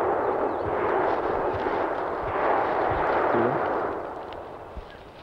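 Distant gunfire from hunters in the Deep South rolls in as a muffled, continuous rumble with faint low thumps, far away and fairly quiet, fading toward the end.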